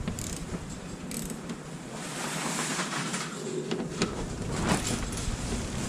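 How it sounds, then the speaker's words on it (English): A hand ratchet snugs the bolts of a rear license plate bracket on a Volvo, giving a steady run of close, fairly quiet clicking and metallic working noise over a broad hiss for several seconds. "Just go with the ratchet."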